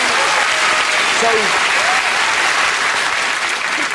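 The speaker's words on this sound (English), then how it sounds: "That's worth a round of applause." Studio audience at a comedy news show breaking into loud, dense applause that holds steady throughout, with a few voices briefly audible beneath the clapping.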